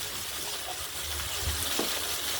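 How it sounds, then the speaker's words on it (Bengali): Chopped ridge gourd with a pinch of turmeric frying in a kadai, a steady low hiss of sizzling oil with faint stirring movements throughout. "এবার নাড়াচাড়া করবো"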